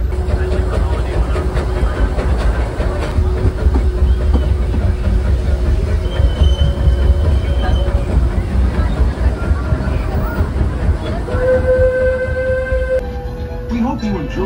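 A theme park train ride runs on rails with a steady low rumble and clatter throughout, heard under a recorded announcer's voice, with a few brief tonal signals near the end.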